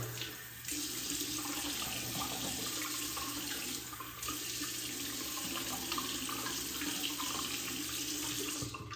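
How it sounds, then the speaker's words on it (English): A tap runs steadily into a sink for several seconds as a man wets his shaved head before shaving with a razor, a constant close splash with no talk. "let me get my head wet"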